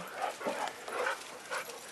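Several dogs yip and whimper excitedly as they play and chase one another, a run of short, fairly close bursts with almost no human voice.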